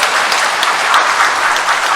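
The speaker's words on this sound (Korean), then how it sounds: "우리 이분들의 환영의 박수를 보내겠습니다" A church congregation at a Sunday Mass claps together to welcome visiting tourists, a dense, steady wash of applause filling the hall for two seconds without any voice over it.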